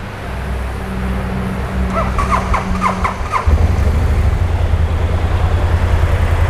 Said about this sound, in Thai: เดี๋ยวลองฟังเสียงเครื่องยนต์กันดูหน่อยนะครับ